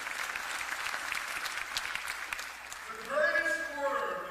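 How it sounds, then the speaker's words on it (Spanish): Church congregation applauding during a sermon, a sustained crowd clapping that fades toward the end as a voice speaks over it. "dele un aplauso al Señor"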